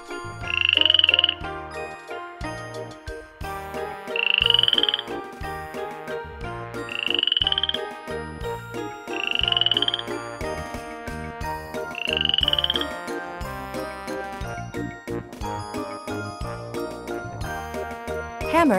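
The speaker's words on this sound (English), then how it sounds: "Frog." A frog croaks in five loud, evenly spaced bursts about every two and a half seconds, set against a bright, busy musical backing with tinkling chimes.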